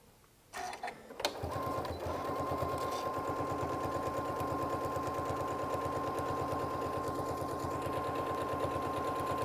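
A sewing machine stitches fabric in a steady rapid mechanical whir, starting after a few brief clicks and running loud and continuous to the end, with no talking.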